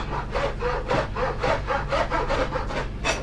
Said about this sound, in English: Then grab yourself some rashers of bacon. We're just going to chop these up into lardons.